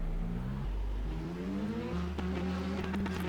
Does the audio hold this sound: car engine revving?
yes